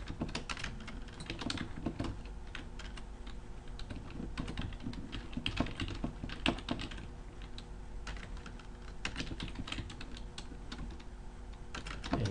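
Code being typed on a computer keyboard, a continuous close rapid clatter of keystrokes with no talking.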